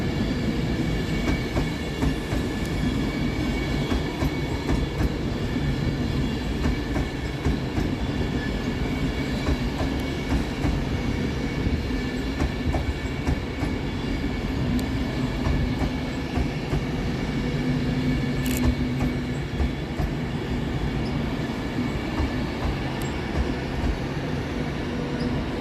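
Trains rumble through Crewe railway station, a continuous loud rolling drone with wheel clatter and occasional squeals, steady for the whole stretch with no voices.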